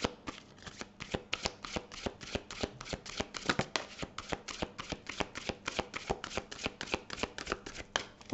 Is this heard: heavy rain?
no